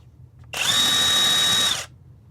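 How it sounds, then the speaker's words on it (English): A cheap battery-powered impact wrench from Amazon runs in a single loud, steady burst of just over a second, with a sharp high whine that starts and stops abruptly, heard alone. "So this is just an Amazon battery impact."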